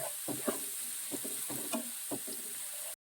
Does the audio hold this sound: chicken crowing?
no